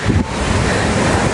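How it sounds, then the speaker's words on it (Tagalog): Sea waves washing ashore at a beach resort in Tangalan, Aklan, a loud, steady surf roar mixed with heavy wind buffeting the microphone. "diretso na agad dito sa dagat"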